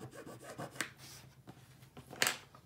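Trimming a small corner off a handmade sketchbook cover, with close, faint rubbing and scraping cuts in short strokes and a sharper scrape near the end.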